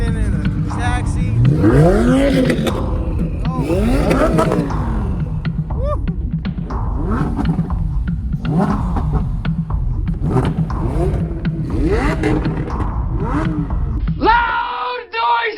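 Lamborghini sports cars rev and rumble loudly at an airstrip racing event, engines rising and falling in repeated surges close by, while people talk over the roar.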